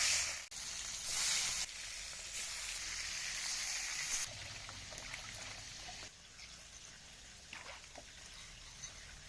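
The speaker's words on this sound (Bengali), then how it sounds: "হলুদ মাখানো মাছ গরম তেলে এবার ভেজে নেবো" Turmeric-coated pomfret pieces fry in hot oil in a kadai, a close, loud hiss that settles into a quieter steady sizzle, with no talking.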